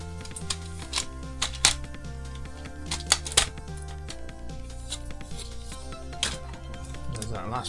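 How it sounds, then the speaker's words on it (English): Batteries and screws are pulled from an Atari Lynx handheld console, producing scattered close clicks, taps and small plastic knocks beneath a steady background hum, with no talking over the handling. "There's that last battery, out it comes, and there you go."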